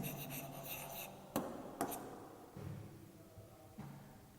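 Pen or pencil scratching across paper at a worksheet for a capacity measurement maths lesson, with a couple of sharp taps as it lifts and lands, close and fairly quiet.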